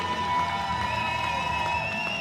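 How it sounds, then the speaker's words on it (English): German fans in an arena crowd at a wheelchair rugby European Championship match in Cardiff, cheering and applauding steadily throughout at close, loud level. "German fans applauding every try"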